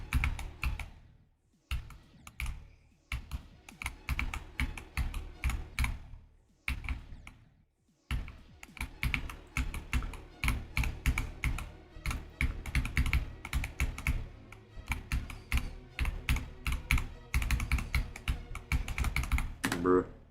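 Keys on a computer keyboard are hammered in rapid, dense bursts, broken by a few short pauses, with the clatter loud and close the whole way through.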